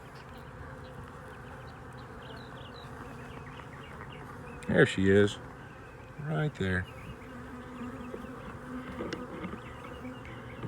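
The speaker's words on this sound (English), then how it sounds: "But you can see this is loaded with bees." Honey bees swarm a crowded hive frame with a constant low buzzing hum, while someone speaks briefly twice over it at close range.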